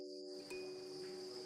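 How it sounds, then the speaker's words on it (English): A mass of house crickets in farm trays chirps in a dense, continuous high trill, steady and fairly faint throughout. "In his trays, there are more than 1 million house crickets chirping just like in Provence."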